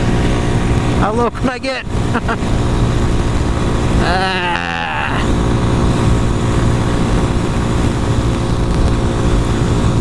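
A Honda Grom motorcycle engine held wide open in fourth gear gives a loud, steady drone with wind rush throughout, while the rider speaks briefly over it.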